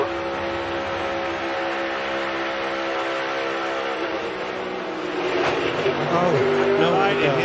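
Onboard view from Kevin Harvick's NASCAR Cup car racing at Atlanta, the engine holding a loud steady drone that rises and shifts in pitch near the end. A commentator's voice runs over it.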